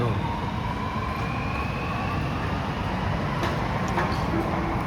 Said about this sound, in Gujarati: મેટ્રો ગાડી જાય છે.